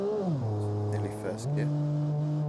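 A car in the BeamNG driving game drops into first gear and pulls away, the engine note dipping and then climbing into a steady, fairly loud drone.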